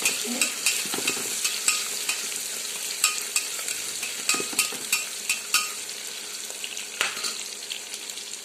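Bay leaves stir in hot oil for spiced rice, with a steady sizzle and a regular series of spoon scrapes and taps against the pan, close and moderately loud.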